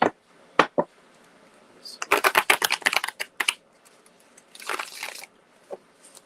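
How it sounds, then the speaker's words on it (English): Cards clatter in bursts of rapid riffling and shuffling, close up, separated by brief quiet pauses and a few single taps. "I'm going to shuffle just a couple more times here. Make sure they are good and mixed."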